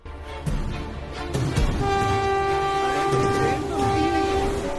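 A train roars past without stopping, its loud horn blaring in long sustained blasts over continuous rumbling wheels and rail noise throughout.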